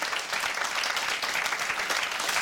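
A crowd at a music event breaks into continuous applause, a thick, uniform texture of many hands clapping at a fairly loud, close level for the whole stretch, with no voices rising above it.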